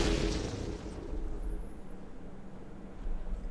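An explosion sound effect booms at the start and is followed by a rumbling decay and low crackling tail. A faint high whine rises briefly in the middle.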